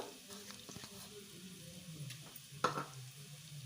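Onion, cabbage and green chillies fry quietly in a pan for a soya chunk Manchurian, a soft continuous sizzle with occasional stirring scrapes and one brief clink, faint and close.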